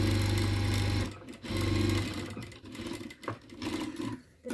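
A sewing machine stitches blouse fabric in two loud, steady bursts of about a second each, with a short pause between, followed by quieter handling noises.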